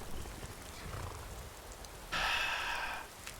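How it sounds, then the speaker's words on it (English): Rain falling in the Skyrim game world, a soft steady patter that swells into a louder, brighter hiss for about a second before easing back down. "And it's starting to rain."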